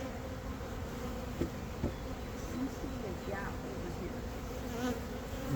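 Carniolan honeybees buzzing around an open hive during an inspection, a continuous close droning hum with individual bees passing near.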